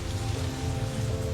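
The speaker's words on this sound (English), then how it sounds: "After 8 days of solid rain." Steady rain pattering down, a dense continuous hiss of drops on surfaces with no pauses.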